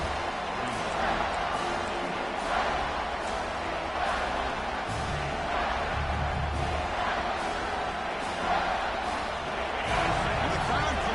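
A stadium crowd in a football video game roars steadily through the red zone, a dense continuous wash of cheering and noise from a distance with commentary voices over it.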